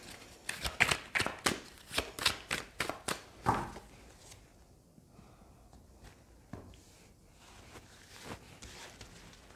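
A deck of Rider-Waite tarot cards is shuffled close up in a quick run of crisp riffling snaps, followed by softer sliding and placing sounds as cards are drawn and laid out.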